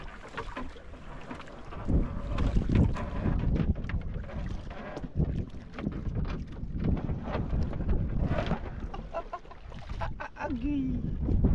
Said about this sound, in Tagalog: dahil malakas po ang hangin